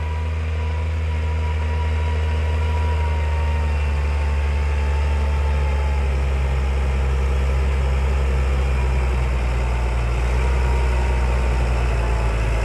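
A Fiat 980DT tractor engine runs at idle while ploughing a stony clover-grass field, a steady, loud low rumble that holds constant throughout with no talk.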